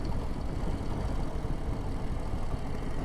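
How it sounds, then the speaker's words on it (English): A 2025 Harley-Davidson Low Rider ST with the High Output 117 engine and standard exhaust idles in a steady, low rumble, even and fairly quiet for the whole stretch, with no revving or changes in pitch. "This bike's very quiet because it's got the standard exhaust on it."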